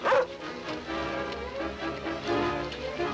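A wounded dog yelps sharply once, then whimpers and whines in a drawn-out, wavering cry, close and fairly loud, over a faint background hum in an old adventure serial.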